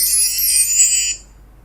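A cheap Chinese smartphone's notification for incoming WeChat messages: a loud, bright electronic chime lasting about a second before cutting off, heard up close with no talk.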